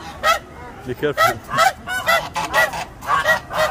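Agitated geese at a zoo in Kuwait give a run of loud, close honks and hisses in rapid bursts, with a person talking briefly over them.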